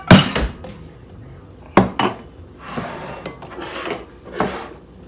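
Clattering kitchen dishware: a sharp knock near the start, another clunk around two seconds, then softer scraping rustles, like a bowl pulled from a cupboard and set down, with no one speaking.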